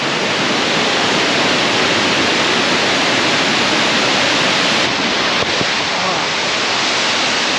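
A huge waterfall roars in a steady, dense wash of broadband noise from start to finish, loud and continuous with no breaks.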